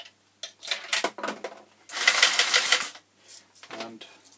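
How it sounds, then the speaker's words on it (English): A homemade Arduino coin change machine dispensing 10p coins, a run of metallic clinks and clattering drops as coins fall out in bursts, with a busier jangle in the middle. "And 5 coins are dispensed."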